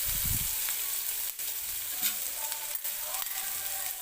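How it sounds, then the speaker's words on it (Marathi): Onion sizzles quietly in a pan while cooking for matar paneer gravy, a soft continuous hiss with a few faint stirring knocks and no talking. "तर कांदा मी टाकलेला आहे भाजण्यासाठी"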